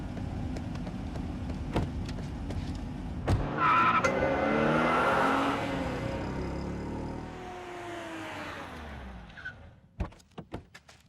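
A car pulls away from a roadside stop, its engine revving and climbing in pitch with a brief tyre-skid screech, then fading into the distance. A few sharp knocks follow at the end, with no one speaking.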